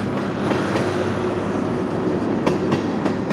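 A long train rolls steadily past, a continuous loud rumble of wheels on rails with faint clickety-clack joints near the end.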